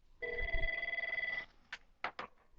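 Outgoing call ringback tone in One X Portal for IP Office: one sustained electronic ring of just over a second, steady and fairly quiet, followed by a few short clicks.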